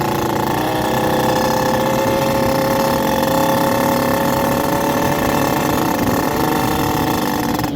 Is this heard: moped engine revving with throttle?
yes